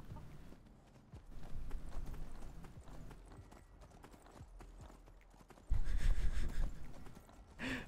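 Horse hooves clip-clop in the video game Skyrim in a steady walking rhythm, fairly faint, followed by a louder burst of movement near the end.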